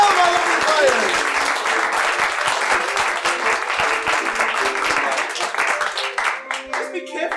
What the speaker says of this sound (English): Please give a round of applause for all of our lovely players.